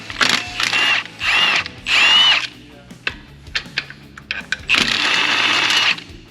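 A power tool zips bolts out of a firewall bracket during a 7.3L Godzilla engine swap into a Fox Body, whirring in several short loud bursts with clicks and clanks between them, close up.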